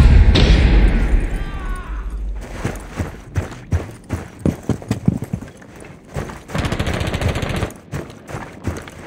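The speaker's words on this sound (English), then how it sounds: "Flashbang out!" A flashbang grenade detonates in Rainbow Six Siege with a loud burst at the start, followed by repeated gunfire and thudding impacts in irregular bursts throughout.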